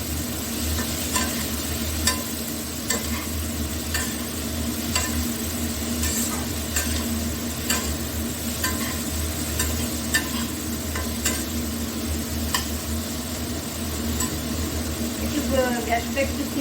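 Sliced bitter gourd and onion fry in a pan over a medium gas flame, giving a steady sizzle broken by repeated scraping stirs of the spatula, with a voice heard faintly nearby.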